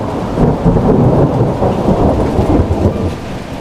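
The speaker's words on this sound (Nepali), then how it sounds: "त्यो मध्यरातको झरी।" Heavy midnight downpour during a thunderstorm, a dense, loud, continuous wash of rain with low rolling thunder rumbling steadily underneath throughout.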